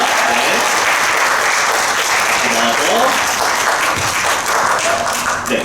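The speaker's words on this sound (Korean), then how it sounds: "다시 한번 그러면 다시 한번 박수 부탁드리겠습니다." A loud, dense round of audience applause at an interpretation school's presentation event, clapping continuously and evenly for nearly six seconds with a faint murmur of crowd voices mixed in.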